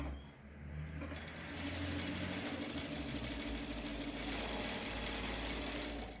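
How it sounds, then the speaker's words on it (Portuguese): A sewing machine stitches slowly along a marked line on fabric for a plush dog comforter toy, giving a steady, continuous motor hum and needle chatter that runs close and unbroken with no talking. "costure bem devagar sobre o risco, para que essa costura fique reta"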